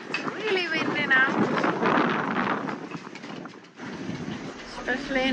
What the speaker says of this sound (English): It is really windy now